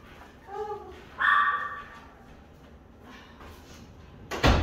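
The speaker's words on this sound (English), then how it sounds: "dogs barking at them" Two short bursts of dog barking, one fainter then a louder one, followed by a sharp knock or clatter near the end.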